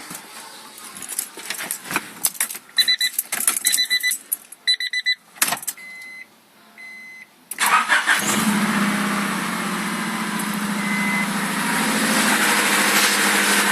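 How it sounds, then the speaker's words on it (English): A Honda car engine, with the air box fitted after a thermostat replacement, cranks through several ignition chimes and starter attempts, then catches and settles into a steady, loud idle that continues alone. "So with the air box on, go ahead and start the car up really quick."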